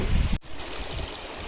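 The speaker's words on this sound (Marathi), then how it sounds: "सह्याद्रीच्या कड्यावरून वाहणारा हा धबधबा पुढे बावनदी म्हणून वाहतो." A waterfall pouring off the Sahyadri cliffs near Marleshwar temple in Konkan gives a steady, broadband rushing roar, heavy and close at first, then a constant lighter wash of flowing water.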